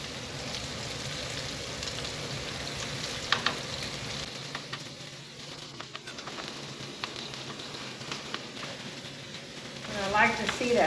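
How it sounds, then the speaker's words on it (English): Fish fillets sizzle steadily in a hot pan for tacos, with a few scrapes and clicks as pieces are lifted and turned, then a brief louder burst of frying near the end; no talking. "I'm going to take these off and flip our fish here a little bit."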